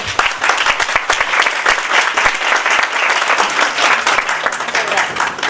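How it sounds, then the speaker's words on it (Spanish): Dense, sustained applause from an audience welcoming a guest history specialist at a lecture-style program, steady and loud throughout without a break. "pido un fuerte aplauso, por favor"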